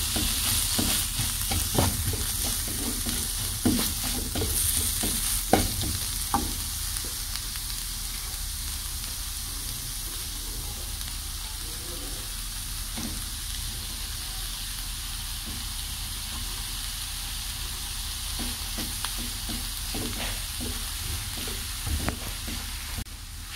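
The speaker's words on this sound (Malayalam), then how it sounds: "ഇതിലേക്ക് വേവിച്ച് പൊടിച്ച് വെച്ച ബീഫ് ചേർത്ത് വെക്കുക." Cooked, shredded beef fries in a pan and is stirred, with a steady close sizzle and hiss broken by occasional scraping taps of the utensil, most active in the first few seconds.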